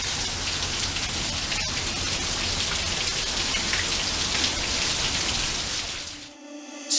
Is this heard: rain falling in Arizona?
yes